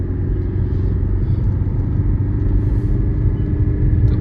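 Steady, loud engine rumble from inside a car being driven, a continuous low drone with no breaks and no talking.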